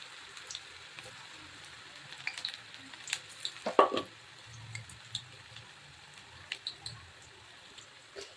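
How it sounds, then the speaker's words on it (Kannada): Gobi Manchurian cauliflower pieces dropped one by one into hot oil, setting off a steady sizzle and frying crackle with small pops and stirring clicks, close and moderately loud with no talking. "ಈಗ ಎಣ್ಣೆಗೆ ಹಾಕೋಣ. ಹಂಚು ಕಾಯ್ದಿದೆ, ಈಗ ಹಾಕೋಣ ಒಂದೊಂದಾಗಿ."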